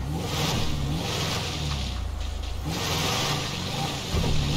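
An Audi Q8 SUV engine revs while driving offroad in GTA 5, a steady mid-pitched growl that surges and eases with the throttle and stays close and loud throughout, with no talking.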